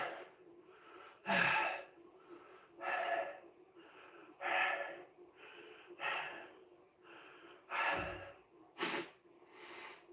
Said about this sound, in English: I have a bad habit of falling into mouth breathing.